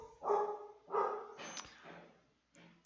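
A dog barks as an inserted sound effect, three loud barks spaced about a second apart, each ringing briefly before a quieter fourth bark, with no voices over it.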